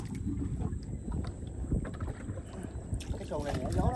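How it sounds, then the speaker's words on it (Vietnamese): Small wooden rowboat paddled along a river during net fishing, with soft irregular water splashes and wind buffeting the microphone, and voices talking nearby throughout. "Đưa dầm lên bơi cho."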